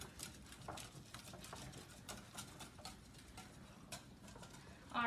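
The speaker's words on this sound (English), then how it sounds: "really whisk it, get it in there" Hollandaise sauce of lemon juice and butter whisked briskly in a bowl, a quiet, fast run of light ticking and scraping strokes that continues steadily throughout.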